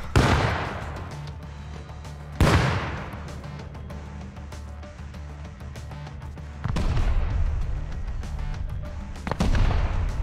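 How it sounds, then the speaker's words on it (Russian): Explosions and gunfire in the survival video game Rust: three heavy booms strike at intervals, each followed by a dense rumbling roar, with sustained low battle noise in between. "Гранату кидает меня."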